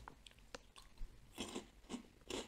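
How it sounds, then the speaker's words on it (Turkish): Austrian potato chips bitten and chewed close up, a few crisp crunches spaced through the short stretch with quiet pauses between bites. "Bu Avusturya cipsi. Hani ısırdığın anda ağzında dağılıyor."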